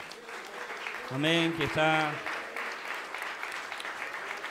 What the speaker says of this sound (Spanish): Damos un aplauso para nuestro hermano Santo.